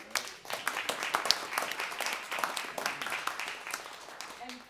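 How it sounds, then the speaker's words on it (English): Audience applause at an evening community talk on Mill Avenue development, a dense, steady patter of many hands clapping that carries through the whole stretch at moderate loudness. "Round of applause again."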